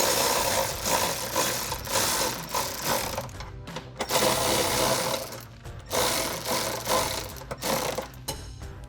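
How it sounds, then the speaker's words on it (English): An electric ratchet runs in repeated whirring bursts, each a second or two long with short pauses between, while tightening side step bar hardware on a 2021-2023 Ford Bronco. "once you get your hardware in and you go to use your ratchet or electric ratchet, it is a little tight"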